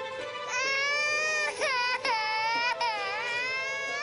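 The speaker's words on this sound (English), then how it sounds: "I can hear her crying all the way from your house!" An animated baby girl cries loudly and continuously in wailing, rising-and-falling sobs, the voice close and piercing with only brief catches for breath, no other voices over it.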